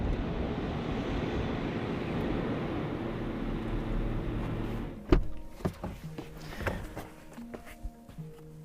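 A new Land Rover Defender drives off road in sand in Namibia, its engine and tyre roar holding steady for about five seconds before cutting to quieter clunks and knocks of the cabin and door.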